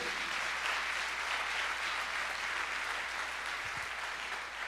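A church congregation at a worship service applauds, a steady, fairly soft wash of clapping sustained throughout with no talk over it.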